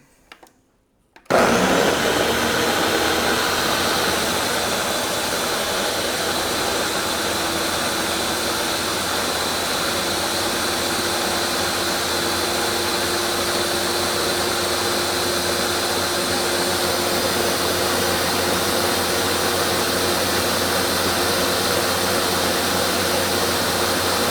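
A blender pureeing vegan chili ingredients into liquid, starting abruptly after a moment of near silence and then running as a loud, steady, high-pitched whir with no talking.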